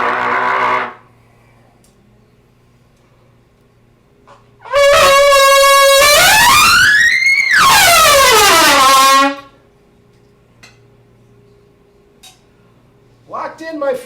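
Trumpet warm-up, the first notes of the day: a brief low blat, then a loud sustained note that bends upward and drops, with quiet room pauses before and after.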